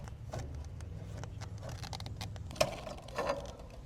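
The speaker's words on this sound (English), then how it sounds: "Start cutting this. That's where the small cutters come in handy." A small tubing cutter works around a flattened copper suction line, giving faint, irregular metallic scraping and clicking with a sharper snap near the end, close by and with no voices.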